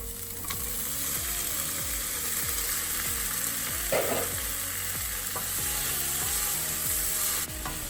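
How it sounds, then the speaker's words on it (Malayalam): Sliced onions with salt sauté in an oily pan for an Indian vegetarian dish, a steady close sizzle broken by regular scraping strokes of a stirring spoon. "പിന്നെ നമ്മൾ സവാള ചേർക്കണം. കുറച്ച് ഉപ്പ് ചേർത്ത് നന്നായിട്ട് വഴറ്റി കൊടുക്കുക."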